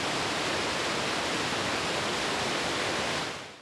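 Steady broadband rush of a waterfall, a dense continuous roar close by with no voices, fading slightly at the very end.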